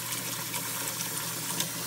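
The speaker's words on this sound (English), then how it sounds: "I can drain out some of the hot water and just leave the cold water running on the cooked egg." Cold tap water runs steadily into a pan of cooked eggs at a sink, making a soft, continuous splashing hiss with no talk over it.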